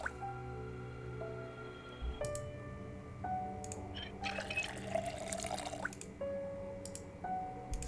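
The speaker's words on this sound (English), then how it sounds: "just fill our water bottles a bit" Water trickling and dripping as bottles are filled at a tap in the zombie survival game Project Zomboid, a steady liquid run with soft drips, layered over quiet game background tones and occasional clicks.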